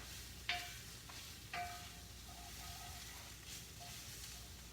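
Onions and lean bacon frying in a skillet on a stovetop give off a soft, steady sizzle, with a couple of brief sharp crackles and pops standing out early on. The frying is faint and quiet, and nobody speaks.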